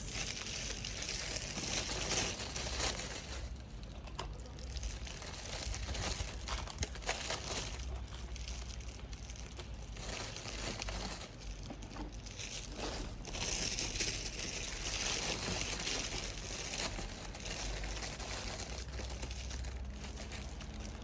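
Crinkling plastic bags of school treats being handled and packed continuously, a dense, close crackling rustle with brief louder crunches, no talking.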